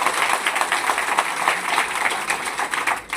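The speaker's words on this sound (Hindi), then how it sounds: "हम इसका स्वागत करते हैं, तालियों की गड़गड़ाहट" An audience breaks into applause at a public talk on the judiciary, a dense, slightly uneven patter of many hands clapping for about three seconds, close and fairly loud.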